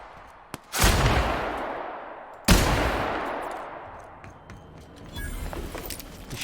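Two loud gunshots ring out in The Outer Worlds, each a sharp close blast followed by a long decaying echo, the second about two seconds after the first, then softer scattered game sounds.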